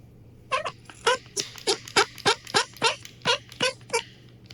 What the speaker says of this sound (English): Who knew they had ducks in Mexico? That's what it sounds like, anyways.